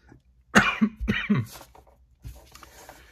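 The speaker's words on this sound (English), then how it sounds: "so you got to listen to me coughing" A few sharp, close coughs in quick succession, followed by a softer throat-clearing rasp after a short pause.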